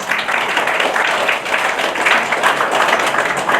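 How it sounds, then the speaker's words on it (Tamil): An audience at a Tamil culture and literature seminar gives steady, dense applause as thanks, filling the whole short stretch at close range. "அவருக்கும் ஒரு நன்றி கரகோஷம்"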